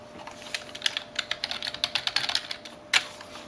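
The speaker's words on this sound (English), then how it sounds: "As you can see, I can start typing, no problem at all." Keys on a computer keyboard attached through a USB hub clatter in a quick, uneven run of close, crisp taps, ending with one louder stroke.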